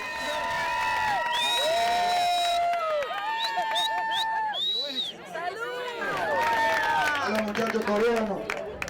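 A lively crowd outdoors on an Uruguayan night cheers and shouts loudly, with voices rising over one another in whoops and chatter. A narrator talks over part of it.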